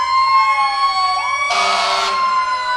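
A fire truck siren wails loud and near as the truck passes in the Rockwood Christmas Parade. Its steady tone bends downward, and then a harsh horn blast cuts in for about half a second.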